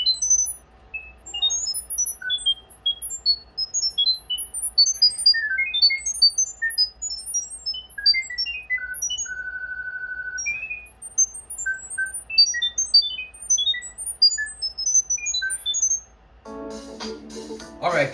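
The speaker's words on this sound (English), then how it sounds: "here comes the chirp" Bright electronic chirps and tweets in the Skylanders Imaginators video game, scattered rapid high-pitched blips with a short steady tone midway, ending in a louder burst of denser sound.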